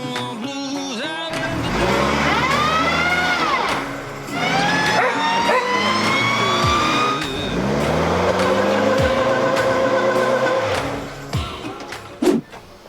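Vehicle engine revving hard again and again while stuck in mud, loud and close, the pitch rising and falling in long surges with brief drops between attempts, ending in a few sharp knocks.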